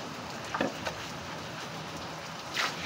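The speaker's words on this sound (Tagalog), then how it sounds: "Malakas ang ulan, malakas." Steady, dense hiss of rain falling hard on surfaces, with a couple of brief louder splashes, no voices.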